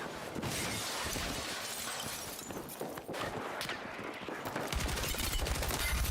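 An RPK machine gun rattles in Battlefield 6 in a continuous, dense stream of rapid shots, with shattering and impact noise mixed into a loud, busy battle.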